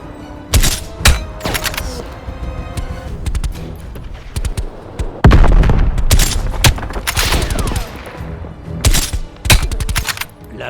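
Call of Duty Black Ops Cold War gunfire: loud repeated shots and short automatic bursts with heavy impacts and thuds, spread unevenly across the stretch with brief gaps between volleys.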